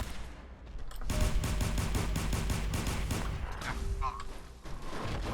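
Laser weapon shots fire in steady rapid succession in a modded Fallout 4 session, a loud evenly spaced volley of sharp zapping bursts running for several seconds, with a brief tonal whine near the end.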